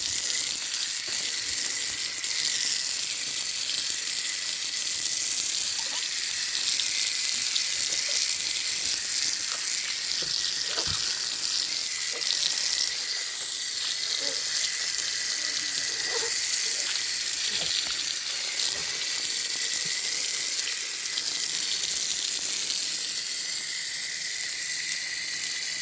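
Water runs steadily while a pumpkin is washed outdoors in the Jamaican countryside, a continuous broad hiss with occasional soft splashes and knocks, close and even throughout.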